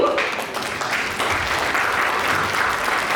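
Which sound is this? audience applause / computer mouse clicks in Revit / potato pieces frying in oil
audience applause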